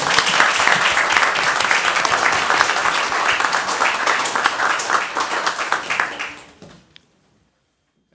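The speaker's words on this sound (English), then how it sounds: "Let's give them another round of applause." Audience applause at a state board of education meeting, sustained dense clapping at full strength for several seconds before tapering off quickly into near silence.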